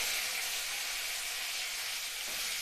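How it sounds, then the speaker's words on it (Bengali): Broccoli frying over high flame in hot oil with salt and turmeric gives a steady, even sizzling hiss that stays level throughout, with no talking. "এবার ব্রোকলিগুলোকে হাই ফ্লেমে আমি 3 থেকে 4 মিনিট এইভাবে একটু ভেজে নেব"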